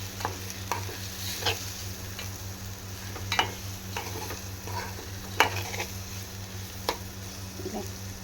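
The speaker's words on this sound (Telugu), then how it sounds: "చిన్న చేపలని దీంట్లో వేసుకొని మంచిగా ఒకసారి కలుపుకోవాలి." Small fish stirred in hot oil in a pan, a continuous close sizzle broken by irregular clicks and scrapes of the spoon against the pan, no voices.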